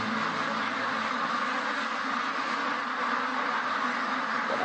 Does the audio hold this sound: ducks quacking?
yes